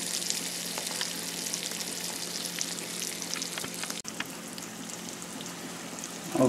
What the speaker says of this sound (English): Cooking them in this bacon grease makes them have a good dark color